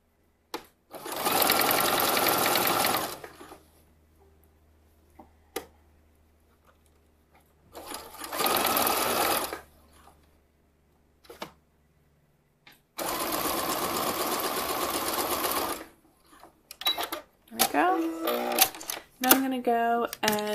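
A sewing machine bastes swimwear fabric in three separate runs, short at first and then a longer steady stretch, each a close, even whir with quiet gaps between, followed by someone talking.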